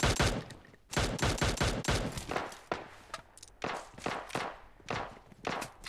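Gunfire in the battle royale game PUBG Lite: dense bursts of sharp, loud shots in quick rhythmic clusters, some rapid and automatic, others spaced apart, with no talking.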